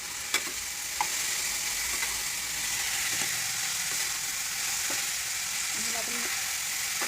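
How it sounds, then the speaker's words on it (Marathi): Finely chopped cabbage fries in oil with turmeric, making a continuous close sizzle with occasional light utensil taps. "त्याच्यात थोडीशी आपण हळद टाकून घेऊ आणि कोबी बारीक चिरलेले ते आपण याच्यामध्ये टाकून घेऊ."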